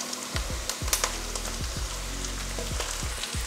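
Cabbage frying in a pan with sautéed onion, green chilli and curry leaves: a steady close sizzle broken by several sharp stirring scrapes and clatters, with no voices.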